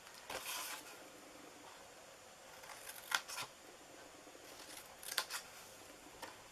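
Scissors snip a thin sliver from a paper card box, with several crisp, separate cuts spaced over a few seconds, close and quiet with no talking.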